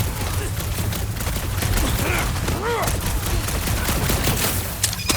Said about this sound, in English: just try not to get shot by the fake guns